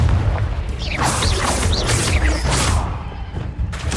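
A Confringo spell explosion in Hogwarts Legacy: a loud booming burst with swirling magical whooshes and crackles, sustained over several seconds before tailing off.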